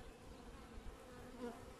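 Honeybees buzz around an opened hive as the keeper works among them. The sound is a faint, steady drone of many wings, with one louder bee passing close near the end.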